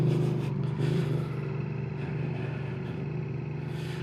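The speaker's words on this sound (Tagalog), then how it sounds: "Ganda ng tunog ng motor niya." A motorcycle engine runs steadily on the road during an adventure ride, a continuous low rumble with a slight swell near the start, moderately close and with no voices over it.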